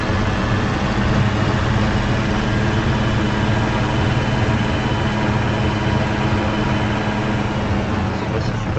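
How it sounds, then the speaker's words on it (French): Tractor engine in Farming Simulator 25 running steadily at close range, a dense continuous low drone that stays loud throughout with no breaks. "Allez, le tracteur, on y va."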